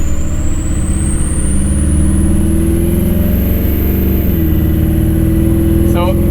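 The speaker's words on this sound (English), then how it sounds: "So it doesn't mind first and second gear, and it did just go into third gear" 2003 Ford F-350 Super Duty King Ranch with the 6.0 Powerstroke diesel pulling away and climbing through first and second into third gear, a loud steady engine drone rising in pitch then dropping at the upshift, heard from inside the cab.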